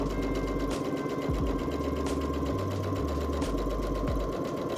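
A sewing machine runs a straight stitch along the serged edge of pinned fabric for a maxi skirt, a steady mechanical hum with regular needle clatter and brief speed changes, close and continuous with no talking.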